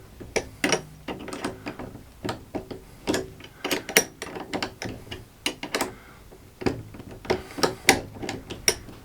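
Adjuster nut being tightened on a BAL Accu-Slide, heard as a close series of quick metallic clicks and ratcheting taps in irregular bursts, with no talking.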